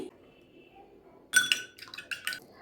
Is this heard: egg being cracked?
yes